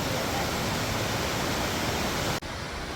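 A waterfall on a moorland footpath roars with a dense, steady rush of falling water, loud and close, unbroken apart from a brief dip near the end.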